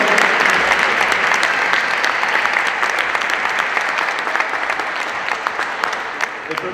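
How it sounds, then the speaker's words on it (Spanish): Audience applauding a transverse flute teacher at a church altar, a dense steady patter of many hands that holds for the whole stretch and eases slightly toward the end. "Un aplauso para Andrés Arévalo"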